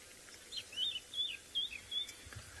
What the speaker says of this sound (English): we can still hear the scrub robin calling.